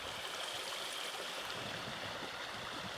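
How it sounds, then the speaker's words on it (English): Ice-cold snowmelt water rushes off the mountains in a stream feeding a lake, a soft, continuous watery hiss heard faint and distant with no talking. "That's ice cold mountain water. It just runs off the mountains and into the lake, all the snow."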